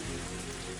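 Rain falls steadily in the visual novel Higurashi When They Cry Hou, a dense, even hiss of rain on surfaces with no voices.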